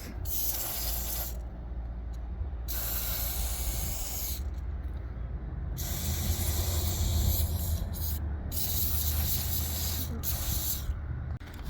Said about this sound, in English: So you can use something like this, electrical contact cleaner, right?